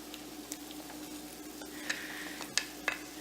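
Garlic added to softened onions sizzling in a pan for goulash, a quiet steady sizzle with a few sharp clicks of a utensil against the pan.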